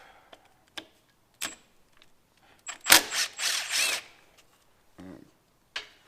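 A power tool loosens a bolt on a Bandit motorcycle during rear suspension link work. It gives a short, close burst of about a second among scattered clicks and clanks of tools.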